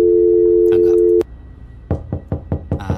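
Telephone tone in an indie horror video game after a caller hangs up, a steady loud tone lasting just over a second, then a series of sharp knocks.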